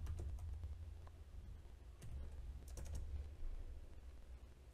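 Code is typed on a computer keyboard in quick, uneven bursts of crisp clicks close to the microphone, separated by brief pauses over a low background hum.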